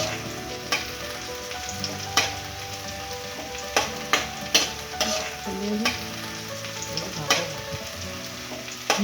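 Ginger-garlic paste fries in a pan for a chicken curry, a steady close sizzle broken by sharp spoon taps and scrapes against the pan at uneven intervals, with no voices.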